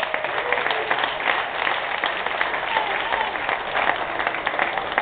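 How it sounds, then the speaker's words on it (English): Crowd applause at a Silverstone motorcycle racing podium for the second-place Ten Kate Honda rider, a dense continuous wash of clapping from many hands, loud and sustained, with a voice faintly beneath. "Round of applause."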